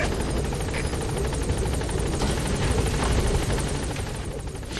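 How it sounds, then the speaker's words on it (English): A helicopter arrives at a landing zone in Metal Gear Solid V, its loud, close rotor chop and whooshing wind noise continuous throughout, easing slightly toward the end. "You think Big Boss would be used to the wind from the helicopter by now?"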